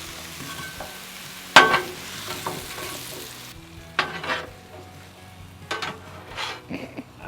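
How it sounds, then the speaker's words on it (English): Butter and apples sizzle on a Blackstone griddle, a soft steady frying hiss broken by sharp scrapes and clacks of a spatula against the metal surface. "get some butter down on the griddle"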